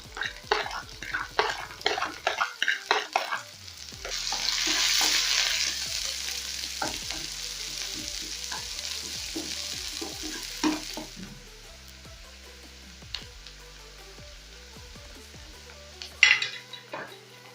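Sausage sauce with coriander stems stirred and frying in a pan: steady sizzle with repeated utensil scrapes and clinks against the pan, close and fairly loud, with a brief clatter near the end.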